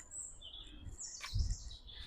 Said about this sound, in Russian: Также вы можете услышать пение соловьев